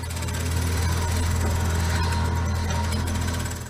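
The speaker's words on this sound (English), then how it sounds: "If you're still confused about what construction noise is," Jackhammer at a construction site, a loud, close, unbroken mechanical hammering that runs steadily the whole time with no voices over it.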